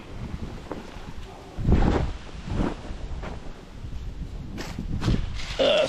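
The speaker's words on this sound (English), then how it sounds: "wind blowing" Gusts of wind buffet the microphone outdoors during a garage power and lighting project, rising in loud rumbling bursts over a steady rushing background.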